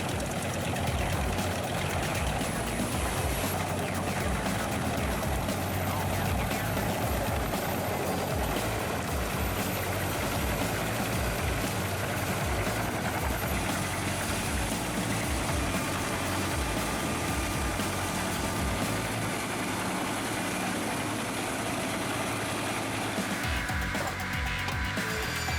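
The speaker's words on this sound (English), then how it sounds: "Straight from Austria, the Porsche Spaltfix S350 is an absolute game changer in firewood processing." The engine of a Porsche Spaltfix S350 firewood processor from Austria runs in a steady, loud drone with a constant broadband roar and no pauses throughout.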